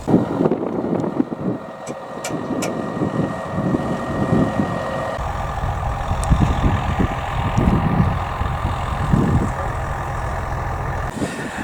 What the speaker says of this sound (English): here with his tractor and baler, so we're about to have all our hay crop baled